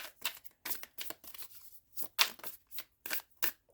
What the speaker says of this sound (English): You guys saw me shuffle